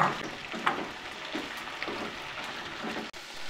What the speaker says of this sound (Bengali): একটু হালকা করে ভেজে নিলেই হবে, যাতে ভিন্ডিটা একটু নরম হয়ে যায়